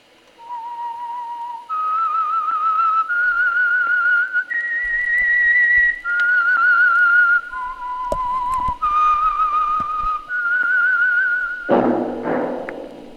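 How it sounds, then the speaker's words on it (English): A lone whistler carries a slow, clear melody of held notes, followed by a short thump at the end. "That whistle is your signal for the Signal Oil Program, The Whistler."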